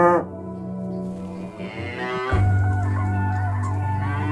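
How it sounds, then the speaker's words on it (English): Wild cattle roaming an Aleutian island in the Bering Sea give out long, loud, nearby moos, one drawn-out low call followed by another deep bellow, with no talking. "the cows feel at home here too"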